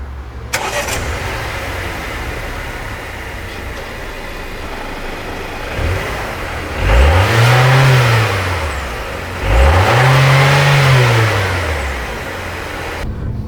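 Mercedes CLA 180 with a small engine starting up and settling into a steady idle, then two separate blips of revving that rise and fall, medium loud and close, with no talking.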